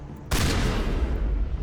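A shotgun blasts in Mass Effect: one sudden loud report, followed by a long, noisy, crackling decay with no voices.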